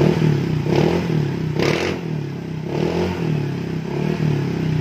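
A Honda ADV scooter fitted with a custom slip-on exhaust from a CB150 revs up close, its deep, throaty idle rising into several short throttle blips before settling back.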